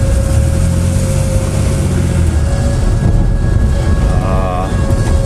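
A 1986 Lesharo RV on its first road test rolls along with steady, loud low engine rumble and road noise throughout, a thin high whine running on top and a faint warbling tone near the end.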